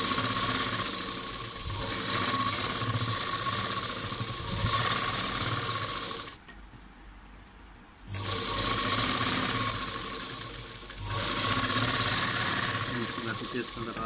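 A sewing machine stitches a cold sleeve in long, close, steady whirring runs, stopping briefly partway through before starting again.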